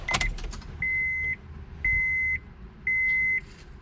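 A warning chime sounds inside a Honda Insight car, three evenly spaced, steady electronic tones, each about half a second long, following a brief clatter at the start with a faint low hum beneath.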